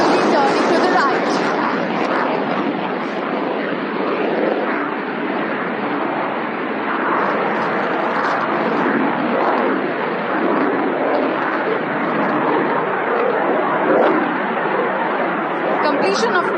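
Military jet aircraft performing a display at the Aero India 2025 airshow, a continuous loud roar of jet engine noise rolling on throughout, with crowd chatter and talk mixed in beneath.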